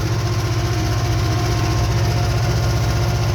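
Ursus C-360 tractor engine idling in a field, a loud steady low throbbing rumble with a fast regular pulse that holds unchanged throughout.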